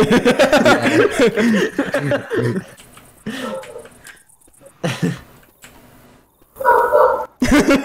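A dog named Petey barks a few times close by, the barks mixed in with lively talk and laughter from a man playing Left 4 Dead 2.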